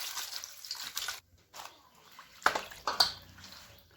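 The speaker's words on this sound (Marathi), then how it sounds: "असं पाटीमध्ये पाणी ओतून धुवून घेते" Taro leaves are washed by hand in a tub of water, with sloshing and splashing in uneven bursts and a few drips, close and fairly quiet.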